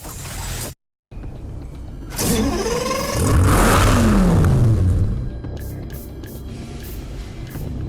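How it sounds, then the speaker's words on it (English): Lamborghini Gallardo revving and accelerating hard under turbo boost in the racing game Need for Speed Hot Pursuit, engine pitch sweeping upward through several gear shifts after a brief cutout, loud and close with mechanical whine. "Activate the turbo, and within seconds, the system will engage and give your car a rocket-powered kick of acceleration and speed"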